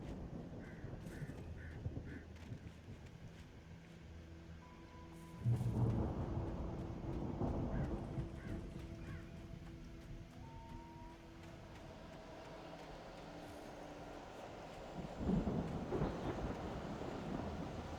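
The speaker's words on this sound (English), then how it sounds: "The storm raged on as the Anderson brothers walked unsteadily away from the clinic" Thunder rolls through a rainy storm in the video game Alan Wake, with low rumbles swelling loud twice over steady rain and faint ambient tones.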